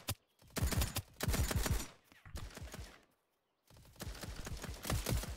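Rapid bursts of gunfire in the Roblox BedWars video game, several dense volleys of loud shots separated by short gaps and a brief silence, no talk.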